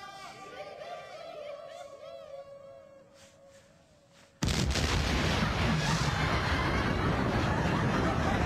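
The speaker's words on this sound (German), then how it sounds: "die Schwandlawine ist gesprengt" Avalanche control blasting sets off the Schwand avalanche, a sudden loud explosion that cuts in after quieter outdoor sounds with talk and then stays as a sustained roaring boom and rumble until the end.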